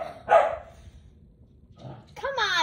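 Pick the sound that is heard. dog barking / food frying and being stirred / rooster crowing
dog barking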